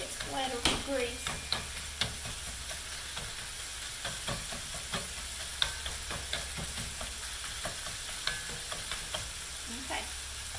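Ground beef for chili mac sizzles and fries in a pan, a steady hiss broken by scraping stir strokes and small pops, close up, with a voice speaking now and then.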